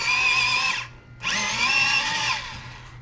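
A power drill bores a hole into a Squier Stratocaster electric guitar, whining loudly and steadily in two close bursts separated by a short pause.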